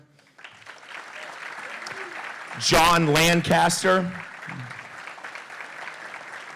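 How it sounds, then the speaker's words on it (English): Audience applause at a live event honoring first responders as each is introduced by name, a soft steady patter behind someone speaking, swelling briefly with cheers and voices mid-way before settling back. "We can give them a nice round of applause."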